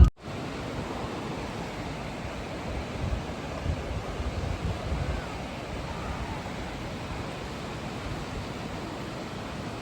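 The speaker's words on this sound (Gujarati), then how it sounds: "તાણ કેવો છે જો નદીનો" Sutlej river water rushing steadily through a cold mountain valley near Sangla, a dense broadband roar that fills the whole stretch without pause, close and loud like strong current over stones.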